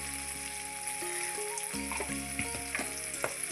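Black cumin seeds, bay leaf and ground spice paste fry in hot oil for a mustard hilsa curry, a low continuous sizzle with a few soft stirring knocks against the pan.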